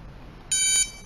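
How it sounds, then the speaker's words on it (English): A single short electronic beep from an RFID password locker lock panel, high and clear, sounding once against a quiet background. "Touch the panel with the beep."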